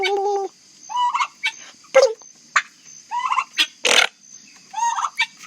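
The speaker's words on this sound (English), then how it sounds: "I'm communicating with turkeys." Several turkeys gobble and call close by in repeated rattling bursts, some overlapping, with gaps of quiet and a constant high background drone.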